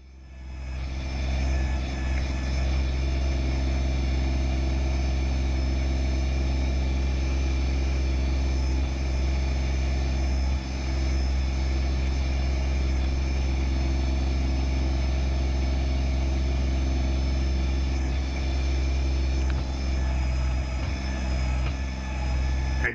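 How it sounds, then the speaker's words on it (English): A Kubota BX25D compact tractor's diesel engine runs at a steady, loud idle-to-working drone while the machine is repositioned, a constant low hum with no talk. "Now I'm going to reposition the tractor right here."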